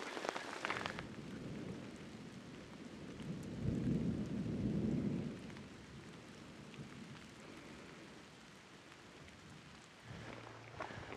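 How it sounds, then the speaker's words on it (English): Steady rain patters all around in an open field in Utah while low thunder rumbles rise and fade in the distance, with a sharper crack near the start. "Here we go, the storm's here."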